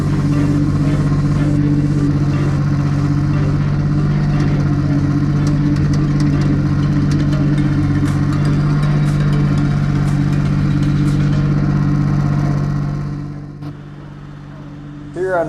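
A Mahindra Max 26XLT HST compact tractor's engine runs loud and close with a steady, low diesel drone while moving dirt, holding for most of the clip before easing off near the end, with a voice talking over it.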